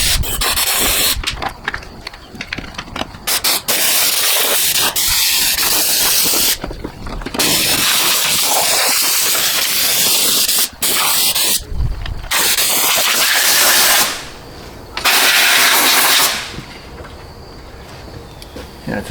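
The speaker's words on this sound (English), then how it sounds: "Now the whole time that this is spraying air, sounds like it's spraying, I'm not always putting out fluid film." A Fluid Film spray gun fogging rust protection under a car, a loud, steady, close air hiss with brief pauses between bursts and light rubbing noises.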